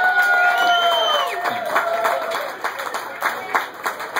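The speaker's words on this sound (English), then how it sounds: "I'd like to have a round of applause for that" Applause and cheering from a crowd at a charity fundraiser for children, steady clapping with scattered whoops, partly masked at the start by a loud tonal whine and background voices.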